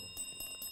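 A quiz show buzzer bell rings in a studio, three quick metallic rings in succession over a faint steady background, with no talk over it.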